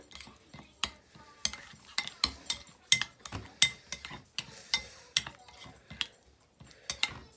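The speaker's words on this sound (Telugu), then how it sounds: "వేసుకొని అది బాగా మిక్స్ చేసుకోవాలి" A spoon clinks repeatedly against a bowl while lemon juice and pepper powder are stirred together, bright uneven taps in a brisk rhythm, close and clear with no voices.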